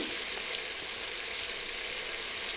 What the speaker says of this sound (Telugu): 2 నిమిషాలు ఆయిల్లో ఫ్రై చేసుకున్న తర్వాత